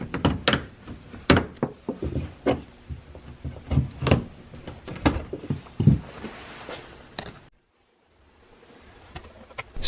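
Plastic panel fasteners are pried out of a 2006-2011 Honda Civic rear lamp area, giving a series of close, sharp clicks and knocks in an uneven rhythm, then a brief pause before faint handling noise.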